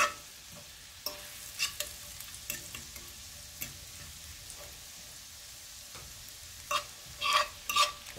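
A tablespoon of shallot and half a tablespoon of garlic sizzle softly in a pan under a steady frying hiss, with a few sharp stirring scrapes and taps that cluster toward the end.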